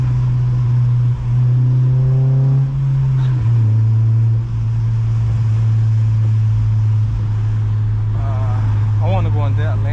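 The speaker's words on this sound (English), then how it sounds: "Another downshift." An 8th-generation Honda Civic Si engine drones and rises in pitch as it revs through downshifts while driving on a rainy road, with steady road and rain noise, heard from inside the car under a voice.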